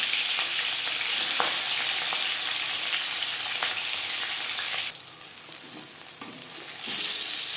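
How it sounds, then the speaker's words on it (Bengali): Marinated rohu fish pieces fry in a few spoons of hot refined oil, a steady loud sizzle with crackling spatters that swells brighter partway through, no voices. "3 চামচ রিফাইন্ড অয়েল গরম করে নিয়েছি। এবার দিয়ে দেবো ম্যারিনেট করে রাখা মাছ।"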